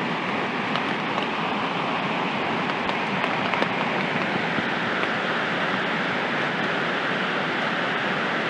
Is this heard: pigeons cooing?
no